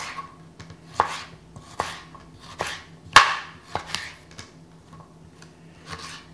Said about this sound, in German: Also den Ingwer in große Stücke schneiden.